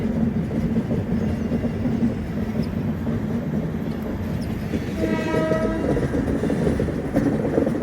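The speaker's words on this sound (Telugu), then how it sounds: "ఇది కంప్లీట్ ట్రైన్ చూడండి" The Secunderabad to Vasco da Gama express rumbles steadily past, wheels grinding and clattering on the curve, with a long horn sounding partway through.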